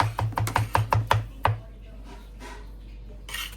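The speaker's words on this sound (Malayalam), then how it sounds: "നാട്ടിലെ നമ്മള് കല്യാണ തലേന്നൊക്കെ ഉള്ളി അരിയണ ഒരു ഫീല് അങ്ങനെ ഒച്ച കേൾക്കുമ്പോൾ" A knife chops onions on a board in quick rhythmic strokes, about eight crisp sharp thuds close by, then a pause with faint background noise and a brief rustle at the end.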